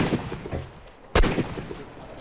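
A single sharp gunshot from ARMA 3 on the Altis map cracks loudly mid-clip, standing out against low game ambience and faint background noise before and after.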